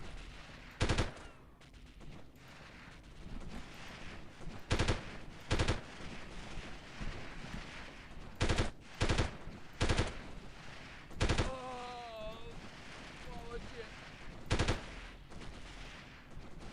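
Gunfire in the 1998 video game Delta Force comes as sharp, loud single and paired shots spaced irregularly over a low ambient background, with a brief tonal electronic chirp partway through.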